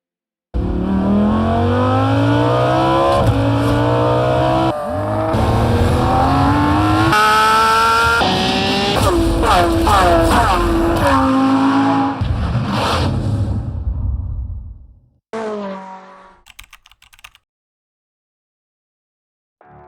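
A powerful sports car engine roars and revs hard, pitch sweeping up and down repeatedly, then cuts off with a few short blips before silence.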